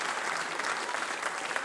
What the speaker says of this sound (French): On peut les applaudir, Christina et Aélis.